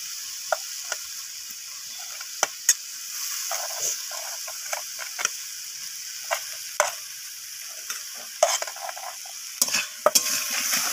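Cauliflower and potatoes stir-fried with spices in a pan for a winter bean, potato and cauliflower dish, with a steady high sizzle broken by frequent sharp spatula scrapes and clinks, close and alone.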